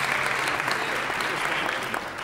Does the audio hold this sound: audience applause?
yes